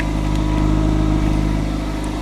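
A car engine idles steadily at about 1500 RPM after an oil-burning treatment test, a constant mid-pitched hum with an even exhaust pulse and no other sounds.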